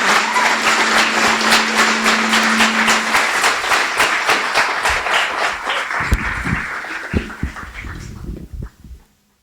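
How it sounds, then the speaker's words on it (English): A crowd applauding at a guide dog graduation ceremony, steady loud clapping from many hands that carries for several seconds before thinning into scattered claps and fading out. "A warm, heartfelt round of applause."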